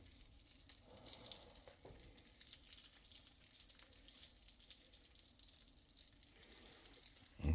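Chicken fried cubed steak frying in a pan gives a steady, faint, bright sizzle that runs throughout, ending in a short louder clatter.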